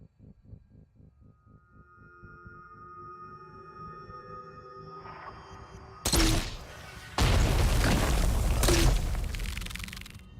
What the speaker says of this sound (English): I'm gonna lob one more grenade up there.